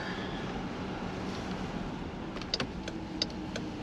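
A 2020 Jeep Grand Cherokee Overland with a Hemi V8 pulls away, heard from inside as a steady, fairly quiet low rumble of engine and road noise, with a few faint clicks near the end.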